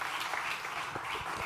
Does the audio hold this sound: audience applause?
yes